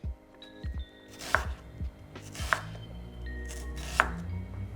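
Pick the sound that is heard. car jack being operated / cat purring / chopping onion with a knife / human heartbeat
chopping onion with a knife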